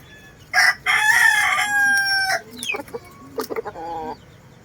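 A 10-month-old rooster crows loudly and close, one long harsh cock-a-doodle-doo followed by a few shorter clucking calls.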